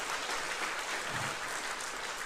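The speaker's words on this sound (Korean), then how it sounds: "우리 성가대를 축복하시고 가난한 학단을 축복하신 주님께 감사의 박수 드립시다" Church congregation applauding at an Easter service, a thick, even wash of clapping from many hands that carries on without pause.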